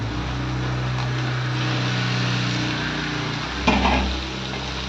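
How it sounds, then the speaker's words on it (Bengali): Fried brinjal pieces get stirred into spices in a pan, giving a steady low sizzle and a brief louder scrape of a spatula near the end, with no voices. "এবারে বেগুনটাকেও ভালো করে মশলাগুলোর সঙ্গে মিক্স করে নেব"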